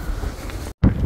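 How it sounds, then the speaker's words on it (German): Gusting wind buffets the microphone on a steep mountain trail, a steady low rumble that cuts out for a split second before roaring back just as loud. "So, es ist sehr windig."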